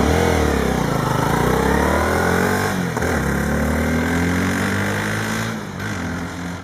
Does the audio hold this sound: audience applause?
no